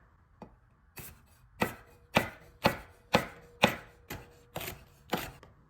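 A knife cuts thin slices of jalapeño on a cutting board, giving about ten crisp, evenly spaced chops that sound close and distinct over near silence.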